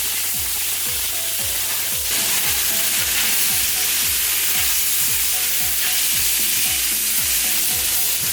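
Caramelized onion and beef sizzle loudly on a hot griddle for a Philly cheesesteak, a constant bright hiss with a spatula scraping and chopping in a steady repeated rhythm throughout, no talking.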